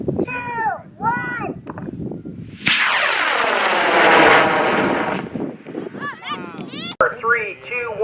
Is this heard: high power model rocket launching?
yes